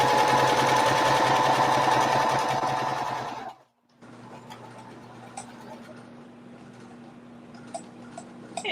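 A sewing machine stitches a seam on a tote bag made from bandanas, running loud and steady for about three and a half seconds before stopping abruptly, leaving quieter room noise with a few small clicks.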